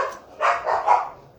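Several dog barks in quick succession, three clear loud yaps close by with a short gap between each, no talking over them.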